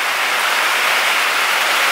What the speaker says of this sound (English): Absolute torrential rains right now.